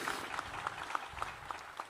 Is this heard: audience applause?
yes